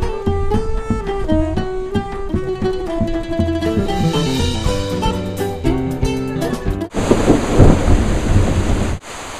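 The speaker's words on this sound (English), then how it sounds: "the most intense lightning storm that I've ever been a part of is happening right now." Tonal music gives way abruptly to heavy rain pouring down and a loud rumble of thunder from a night-time thunderstorm, the storm lasting only the final couple of seconds.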